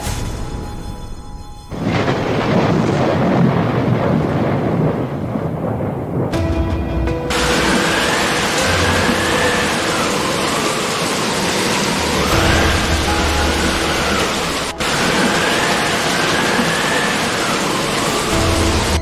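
Heavy, steady downpour roars continuously with a deep rumble of thunder underneath, a biblical flood scene of rain pouring for forty days and nights, loud and enveloping with no voices.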